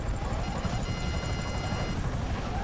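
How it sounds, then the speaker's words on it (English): Helicopter in a racing video game, a steady rotor and engine drone with throbbing low-end chop running continuously at moderate level, stuck trying to take off, no speech over it. "I'm in a helicopter and I'm trying. I can't take off."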